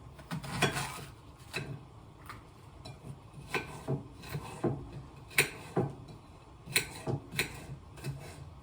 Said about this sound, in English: Got my onions chopped.